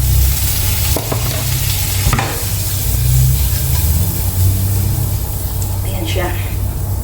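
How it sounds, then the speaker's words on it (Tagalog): Butter melting in a frying pan with onions and leftover meat, a loud continuous sizzle and hiss with occasional scrapes of stirring, while a person talks over it. "So, lagyan na natin ng butter"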